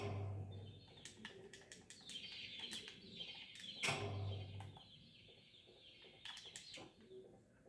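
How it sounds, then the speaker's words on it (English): Birds in the video game Garten of Banban 2, with fluttering wing flaps and sharp chirps and clicks scattered over a quiet background hum, moderately close. "Capture the birds and place them in the nest."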